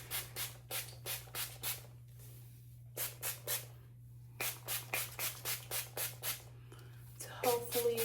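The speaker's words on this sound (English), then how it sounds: "So I'm gonna spray this on my hair." An anti-frizz hair product sprayed onto hair in quick bursts, groups of three to five short, soft hissing puffs separated by pauses, close and quiet, with a brief rustle at the end.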